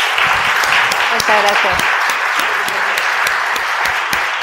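Audience applause closes a science-fiction talk event in Murcia, a dense, steady patter of many hands clapping at close range, while someone speaks briefly over it.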